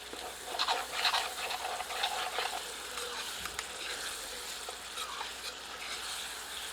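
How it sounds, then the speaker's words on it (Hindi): Chopped onions frying and being stirred in oil in a pan for mutton tadka, a steady soft sizzle with scraping stirs, close and moderately quiet, with no talking. "1 से 2 मिनट और भूनते हैं"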